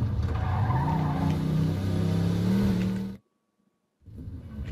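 Car engine and skidding tires in the video game Mafia 2, a loud, steady drone with tire noise for about three seconds, then a sudden cut to silence before the engine returns.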